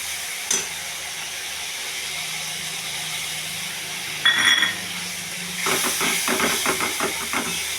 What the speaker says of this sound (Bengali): এবার এটাকে মশলাটাকে কষাবো